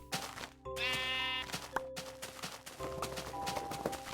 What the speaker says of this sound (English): A lot of sheep today.